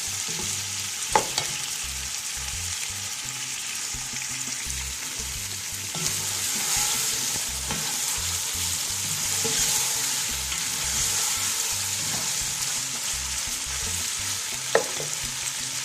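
Steady sizzling of garlic and ginger frying in a pan, with occasional stirring scrapes and a couple of sharp clinks, close and continuous.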